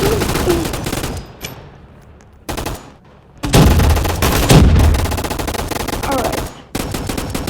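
AR rifle fire in the shooting game Gun Fight Arena: loud, rapid automatic bursts in several separate volleys with brief pauses between them, close and dominant throughout.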